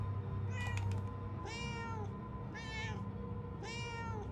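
Three or four short meows ring out in the Murdered: Soul Suspect video game, evenly spaced about a second apart over a steady low background drone.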